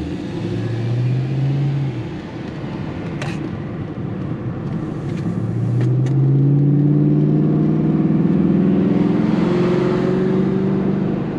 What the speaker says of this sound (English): Man, this car sounds good.